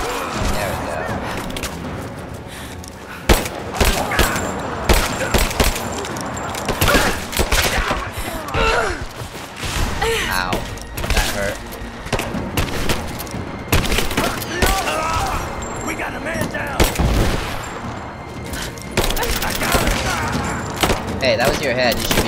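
Heavy suppressing gunfire fills a combat scene in the video game Rise of the Tomb Raider: loud bursts and rapid volleys with booming impacts and thuds continue throughout, mixed with game voices and shouts.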